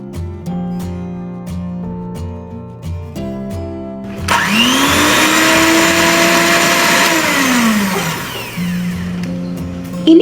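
Electric beater whirring through chocolate sponge cake batter with vanilla essence, a loud steady motor whine that rises, holds for several seconds and winds down, with background music before and after.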